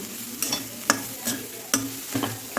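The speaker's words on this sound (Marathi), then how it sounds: "कंटिन्यू हलवत राहायचं नारळ फ्राय करून घेताना" Freshly grated coconut is stirred in ghee over a medium flame for coconut barfi, with about six distinct scraping spatula strokes over a soft, steady sizzle.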